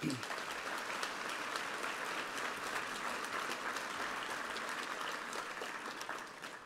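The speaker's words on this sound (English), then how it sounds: "Round of applause." Steady, sustained applause from a large crowd at a Holocaust remembrance evening with a survivor, dense clapping that fades slightly at the end.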